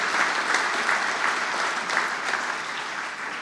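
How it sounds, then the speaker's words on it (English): Sustained applause from an audience at a cruise line's 150th anniversary commemorative ceremony, a steady dense wash of clapping at even loudness throughout with no voices over it. "please give him a warm applause for that moment"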